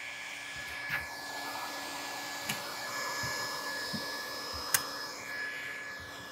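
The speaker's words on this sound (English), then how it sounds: "You put the tip underneath and the welder automatically starts." A hot air roofing welder running steadily as it seals single-ply membrane laps, a continuous blower hiss like a hair dryer with a few faint clicks, fairly quiet and alone.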